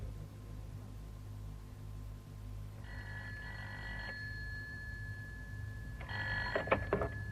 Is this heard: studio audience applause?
no